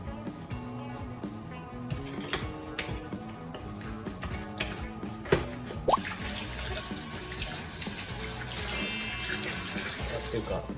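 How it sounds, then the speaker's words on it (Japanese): Salt-rubbed octopus is rinsed under a running kitchen tap. Water streams steadily with splashing into the sink over faint background music, and the splashing grows louder and brighter partway through. "塩もみしてから水洗いします。"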